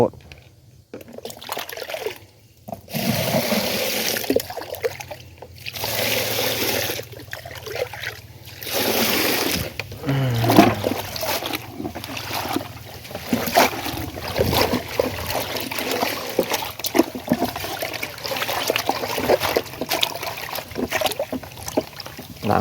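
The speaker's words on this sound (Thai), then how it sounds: "ล้างละลายโลด" Earth-caked vegetables are rinsed under running water, giving sloshing, splashing and trickling in uneven bursts, with a person talking over the washing most of the time.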